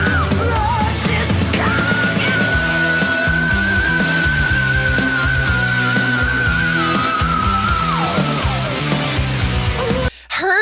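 A female singer in a cover holds a long, steady high yell over loud, driving guitar, bass and drums, then slides off at the end before the band cuts out abruptly.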